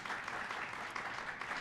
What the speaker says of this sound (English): I think just a round of applause for Kristal for taking the time to join us today.